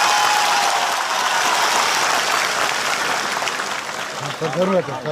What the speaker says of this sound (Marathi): पहिल्यांदा पंकजाताईचं टाळ्या वाजून स्वागत करा